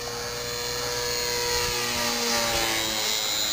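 Electric motor of a Hobbyzone Supercub RC plane in flight, a steady high-pitched whine holding constant, with a faint tonal sweep as the plane passes, no voices.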